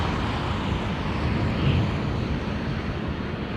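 A Boeing 777 jetliner at London Heathrow Airport gives off a steady, broad engine roar that holds at an even level throughout, with no talk over it.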